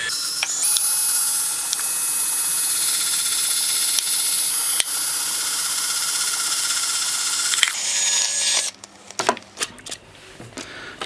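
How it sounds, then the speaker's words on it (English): A drill bores a hole in a plastic bottle to take a tube for a self-watering bottle-tower garden, giving a steady, close whine for about eight seconds before stopping, followed by a few scattered clicks and handling knocks. "So I'm just going to drill a hole with a diameter the same size as the tube"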